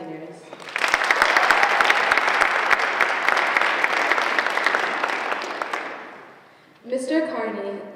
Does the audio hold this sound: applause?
yes